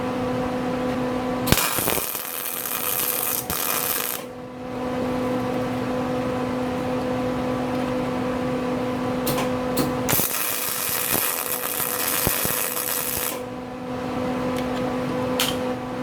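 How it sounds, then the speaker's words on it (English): Welding on a shortened driveshaft in a shop, two long bursts of harsh crackling buzz over a steady machine hum, with brief tack-weld spurts in between. "let me go ahead and get it tacked 2 more times, and then I'll start welding it"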